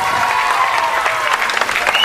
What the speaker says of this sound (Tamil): அவருக்கு ஒரு பெரிய கரகோஷம்